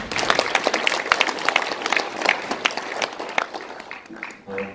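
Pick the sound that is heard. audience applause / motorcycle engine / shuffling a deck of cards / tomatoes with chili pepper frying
audience applause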